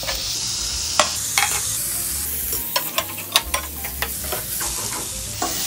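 Chopped medium tomato frying in a pan over a low gas flame, with a steady sizzle and sharp stirring scrapes and clicks close by. No one speaks.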